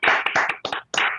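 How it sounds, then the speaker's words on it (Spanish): Brief clapping for a doctor at the end of a session, heard over open microphones: a few short bursts of hands with small gaps between them, close and fairly loud. "para darle un aplauso al doctor"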